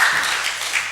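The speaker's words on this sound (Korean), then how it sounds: "큰 박수 부탁드리겠습니다." A church congregation at a Korean Sunday worship service breaks into applause: a dense, continuous wash of clapping fills the entire short moment with no voices over it.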